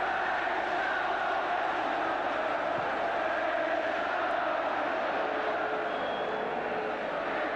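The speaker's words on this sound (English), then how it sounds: "And just listen to this crowd." Football crowd at Chelsea v Crystal Palace in 1976, a dense, sustained roar from a large stadium audience that stays loud and steady throughout.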